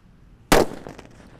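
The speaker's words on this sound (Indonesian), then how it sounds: "ini mercon thunder kita nyalakan sudah menyala" A thunder firecracker goes off with one sudden loud bang, followed by a fading crackle and rumble that trails away for about a second.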